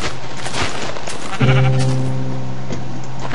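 A sheep in the Minecraft video game gives one loud, drawn-out bleat partway through, alone over faint background game sounds.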